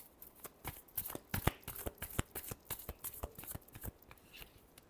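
Tarot cards shuffled by hand in a close series of quick crisp riffling snaps and papery slaps, steady and clear with no talk.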